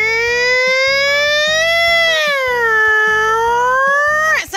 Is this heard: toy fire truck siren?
yes